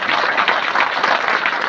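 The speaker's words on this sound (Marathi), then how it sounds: "टाळी अशी वाजवायची घरी झोपलेल्यांना वाटलं पाहिजे भूकंप आला काय" A crowd claps steadily and loudly during a devotional kirtan, a dense, continuous patter of many hands with no voices over it.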